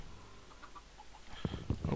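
Chickens clucking in a Minecraft world, a few soft, brief game clucks, then louder closer clucks and fowl calls near the end, with no talk over them.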